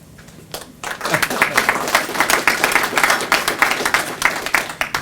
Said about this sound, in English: I'm sure that applause was for Roger.